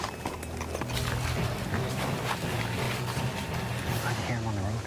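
Horses' hooves clip-clop on a road at a steady walking rhythm, mid-distance, with a faint background murmur underneath.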